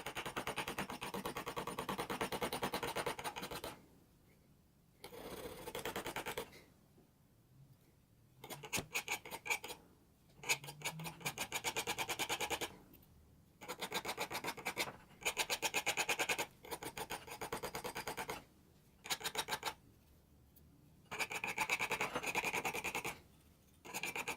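A chisel-grind knife is sharpened without any tools, giving close, faint, gritty rasping strokes that come in bursts separated by short pauses, with no talking.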